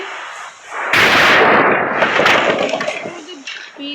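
A TNT block explodes in Minecraft with a sudden loud, close blast after a brief quiet moment, then crackling debris and rumble that decay over a few seconds.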